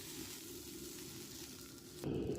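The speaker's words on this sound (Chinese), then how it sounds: "加入开水" Boiling water is poured into a hot pan holding a fried egg, a soft hiss that swells into a louder splashing sizzle near the end, heard close and alone.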